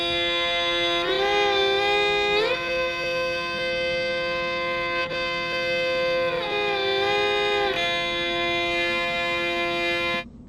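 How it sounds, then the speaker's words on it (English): A sampled violin or viola sound plays single sustained notes in Bitwig, rich in harmonics, with short pitch glides between held tones. It is loud, close and clean, with no voices. "it's basically like violin, viola kind of deal, and it's playing single notes"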